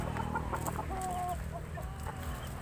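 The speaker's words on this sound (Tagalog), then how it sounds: "Mga manok pang sabo, mga fighting cock." Gamecocks raised for cockfighting in Bonbon, Oslob, Cebu, giving short clucks and a brief crow close by over a constant low outdoor background.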